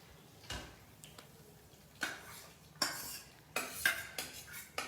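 A spoon scrapes and clinks against a pot as a hot sugar-syrup mixture is stirred, giving irregular knocks and scrapes that grow busier toward the end.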